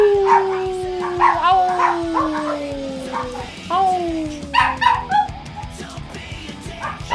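Several dogs howl together in long, sliding, mournful tones that rise and fall in overlapping waves, loud and close, with a brief yip-like break midway.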